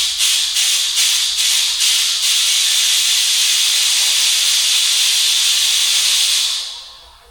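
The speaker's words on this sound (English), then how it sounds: "I can already hear it leaking." Steady, loud air hiss escaping from a leaking pontoon on a Sun Tracker fishing barge, a broad rushing sound with a few pulses at the start, fading out at the end.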